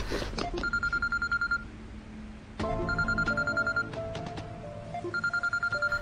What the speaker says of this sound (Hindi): फिर से फोन आ रहा है।